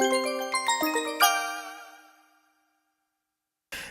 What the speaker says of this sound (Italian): sono pazzeschi, campanelli Roland. Campanelli Roland.